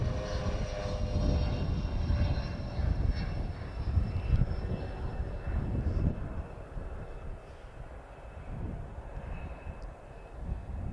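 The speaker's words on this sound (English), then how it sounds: "That's a nice sounding jet, that." A jet airliner engine roars steadily in the distance at Lisbon Airport, a broad, rumbling whoosh that holds for several seconds and slowly fades slightly.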